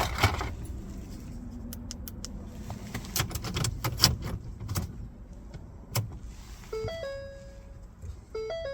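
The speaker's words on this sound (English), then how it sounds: "Now you need to insert the new key into the ignition and turn to on position." Key inserted into the ignition of a 2004-2009 Mercury Sable and turned to on: scattered metallic clicks and jingles over a quiet cabin hum, followed by several short electronic chime tones near the end.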